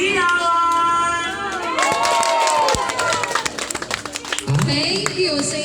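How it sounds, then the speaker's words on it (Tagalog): A crowd at a celebration cheers and shouts for the celebrant, with children's cries and scattered clapping breaking out. Excited voices carry over the noise, which grows choppier toward the end. "Paligid naman ang isang palakpakan na may kasamang hiyawan!"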